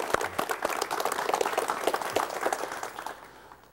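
Studio audience applause welcoming a guest on a 1985 KBS television talk show, a steady mass of clapping at moderate distance that tapers off toward the end.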